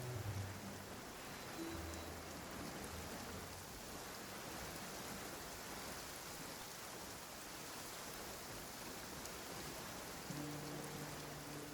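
Steady rain falls throughout the video game Genshin Impact, a dense, even hiss of drops that stays close and constant for the whole stretch with no voices over it.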